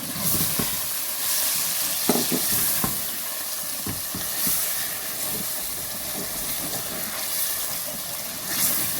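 Boneless chicken stirred into frying masala in a handi pot, with a steady loud sizzle and hiss and occasional scraping knocks of the spoon against the pot.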